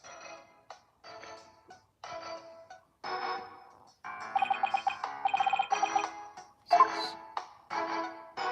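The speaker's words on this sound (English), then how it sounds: "Phone call." A phone rings in the Apollo Justice: Ace Attorney video game, a bright repeating electronic ring sounding in bursts over game music and text blips.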